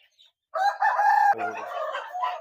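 An Aseel rooster crows once, loud and close, a full drawn-out call with a brief sputter at the end and no other sounds around it.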